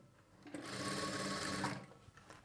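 A sewing machine stitches a sleeve onto a garment in one short burst of about a second, a close, steady motor whir that starts and stops abruptly amid quiet.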